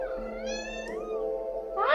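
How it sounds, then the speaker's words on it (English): A pet cat meows for attention in a few long, drawn-out calls, close and clear, with a harmonic rise and fall and a brief, brighter cry at the end. "My cat wants my attention."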